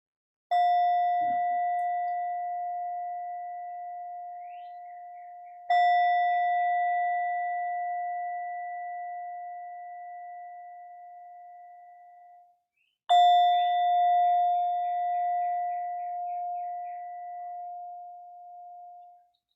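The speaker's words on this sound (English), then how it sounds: "In a moment, I'll invite the sound of the bell" A mindfulness bell at the close of a guided meditation, struck three times, each clear ringing tone sustained and slowly fading before the next strike, alone in a quiet room.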